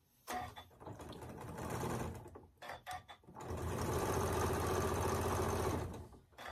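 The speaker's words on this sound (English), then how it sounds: "Now I'm just going to sew it down." Domestic sewing machine stitching a quarter-inch seam on a quilt block, running in bursts that start fast, then one longer steady run; close and fairly loud, with no talking.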